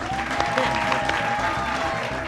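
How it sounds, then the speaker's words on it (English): Canned applause sound effect played during a speedrun charity event's Kaizo draft, a short loud burst of clapping over a repeating rhythmic music loop. "I'm playing my own applause"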